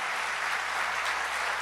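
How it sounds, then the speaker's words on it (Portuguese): A church conference congregation gives a short burst of steady, dense applause that fills the room evenly from start to finish. "aplauda o Senhor nessa hora."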